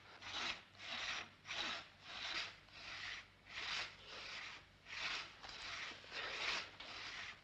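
A hand saw cuts into a tree trunk in steady rasping strokes, about ten even back-and-forth pulls, close and moderately quiet with no voices.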